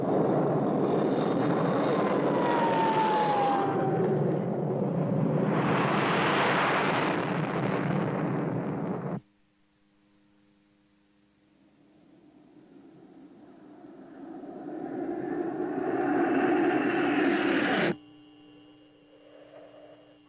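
Fighter jets roar past in a loud, rumbling sweep, followed by a sudden drop to quiet, then another jet roar swelling and cutting off abruptly, with a faint hum left behind.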